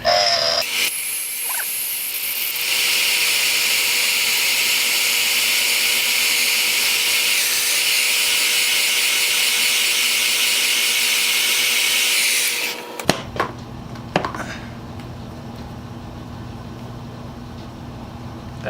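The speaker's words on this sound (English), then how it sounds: "Now, I take the heat gun, actually my dad's old heat gun, now mine," A worn old heat gun set on hot blows air in a loud, steady broadband hiss lasting about twelve seconds, then cuts off, leaving quieter room sound with a couple of brief knocks.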